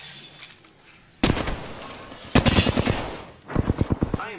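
Bursts of gunfire in the video game Apex Legends: a loud rapid volley, a longer rattling string of shots, then a faster automatic burst, with quieter game ambience between them.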